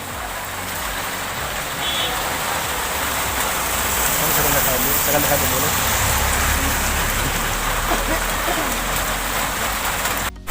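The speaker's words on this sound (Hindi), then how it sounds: "हो रही है बारिश।" Steady rain hisses broadly and evenly throughout at Kuchera market, with a low rumbling background and a voice talking faintly beneath it.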